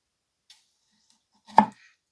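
A factory-edge blade from a budget Coquusaid 15-piece knife block set slices through a tomato, a single soft chop landing against the board after a faint earlier tap, otherwise quiet.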